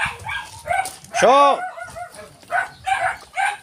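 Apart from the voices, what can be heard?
dogs barking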